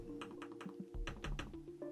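Clicking on a Typecase Edge Pro iPad keyboard and touchpad comes as a quick run of crisp, close taps and clicks, about a dozen in two seconds, with no voice over them.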